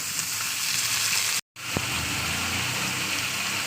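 Potato and liver pieces sizzle loudly and steadily in a hot oily pan, a dense constant hiss that drops out for a moment and then returns.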